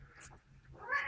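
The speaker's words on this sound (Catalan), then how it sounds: "El miau aquest que sentiu és del gat" A pet cat meows close by in a home during an improvised rap session, a short quiet mew followed by a brighter rising cry.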